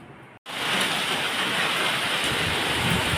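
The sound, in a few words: heavy rain storm outside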